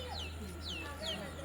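Chicks peep in repeated thin, downward-sliding cheeps over a low steady hum, with softer hen calls among them, faint and close.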